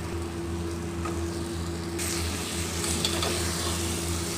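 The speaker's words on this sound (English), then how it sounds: "Stir this brinjal well. Let it cook like this for 1 minute." Brinjal frying and being stirred in a pan with cooked onion and tomato: a steady close sizzle runs throughout, growing a little louder and brighter about halfway, with faint scraping of stirring.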